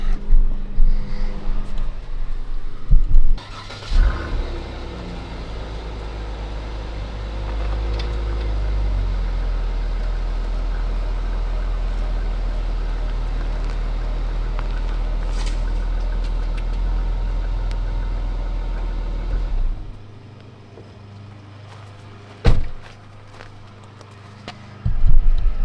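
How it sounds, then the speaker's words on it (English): A pickup truck's engine runs steadily and close by while the truck backs up toward a boat trailer, a loud, sustained low rumble lasting most of the stretch before it drops away to quieter background with a few clanks. "So I'm going to go ahead and I'm going to back up the truck, okay?"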